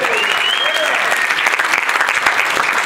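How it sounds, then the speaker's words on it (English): Dense, steady applause from a comedy club audience, close and loud throughout, with a few vocal sounds mixed into the clapping. "Give him a round of applause,"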